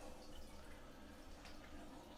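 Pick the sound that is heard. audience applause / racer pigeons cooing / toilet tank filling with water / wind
toilet tank filling with water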